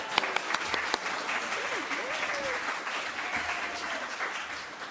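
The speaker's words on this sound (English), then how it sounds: "Give Maple a round of applause" An audience at a worship service applauds, steady clapping at moderate volume that keeps up through the whole stretch, with a few sharp claps near the start.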